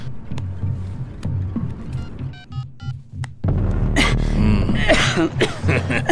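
A man gives several short coughs and throat-clearing bursts, followed by a louder stretch of commotion and movement with voices, all fairly close.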